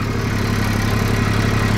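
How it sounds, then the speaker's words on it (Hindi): A tractor engine runs while ploughing a field, a loud, steady, close diesel rumble with a throbbing low drone and no pauses. "ट्रैक्टर की आवाज़ बता देगी आपको कि यहाँ झटका दे दिया इसने"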